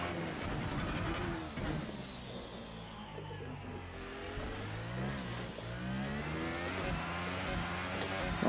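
A Formula 1 car engine in an F1 video game at the Chinese Grand Prix revs high and shifts up through the gears, a continuous whining roar rising and falling in pitch with each gear change, with a voice talking over it.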